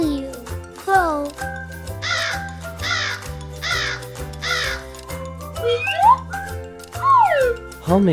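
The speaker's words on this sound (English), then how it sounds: "C-R-O-W. Crow." A crow caws in short repeated bursts, clear and fairly close, over a steady backing of simple music with spoken lines from a child-like voice woven between the calls.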